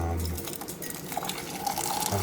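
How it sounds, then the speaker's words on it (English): Hot tap water running from a faucet to fill glass canning jars in a kitchen sink, a steady splashing pour that holds for about two seconds with some low background noise. "So I'm gonna fill them up with hot water here."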